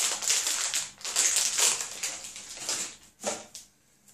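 Crinkly plastic wrapping on a DXN Ganozhi soap bar being torn and ripped open by hand, a close, busy run of crackling and tearing bursts that thin out near the end.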